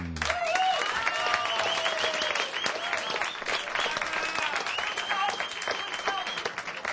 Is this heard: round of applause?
yes